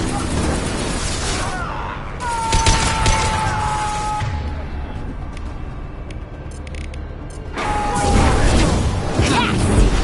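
Heavy gunfire in the Mass Effect 2 video game: dense, crashing bursts of fire and impacts crackle close by in two loud waves, with a quieter stretch between them, mixed with voices calling out.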